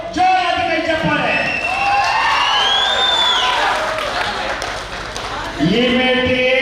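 A crowd claps and cheers loudly at an Ullal taluk amateur kabaddi mat tournament. A dense burst of applause swells in the middle, with voices talking over it at the start and end.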